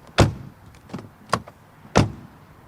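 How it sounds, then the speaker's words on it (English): Doors of a BMW X6 M50i SUV shut with solid thuds, two loud, close closing impacts plus lighter latch clicks between them, heard alone without speech. "Door closing sound."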